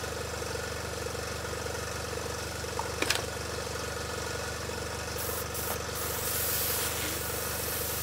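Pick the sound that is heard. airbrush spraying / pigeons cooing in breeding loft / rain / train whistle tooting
airbrush spraying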